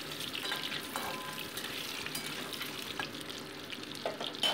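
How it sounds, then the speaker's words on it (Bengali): Duck eggs rubbed with salt and turmeric fry in hot mustard oil in a wok, producing a steady, close hiss and sizzle with faint crackles throughout, no voices. "এবার কড়াইতে সর্ষের তেল গরম বসিয়ে নুন হলুদ মাখানো হাঁসের ডিমগুলোকে আমি ভেজে তুলে নিচ্ছি"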